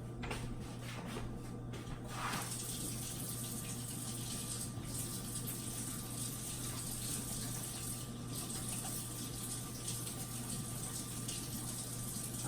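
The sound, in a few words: water running from sink tap while washing hands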